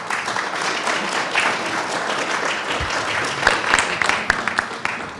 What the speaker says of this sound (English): Please, a round of applause for our panelists tonight.